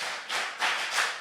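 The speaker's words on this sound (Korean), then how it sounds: "그러면 박수 5번 시작." A young audience at a summer youth camp lecture claps in unison, three broad bursts of applause heard in quick succession, each swelling and fading, moderately loud with no talking.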